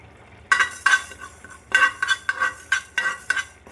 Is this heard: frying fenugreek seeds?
yes